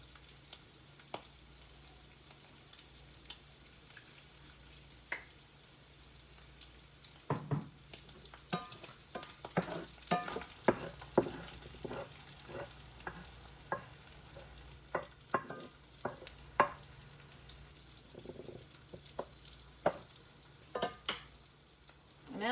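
Sausage fries in oil in a skillet, a soft continuous sizzle with scattered pops and occasional spatula scrapes, close but fairly quiet, no voices.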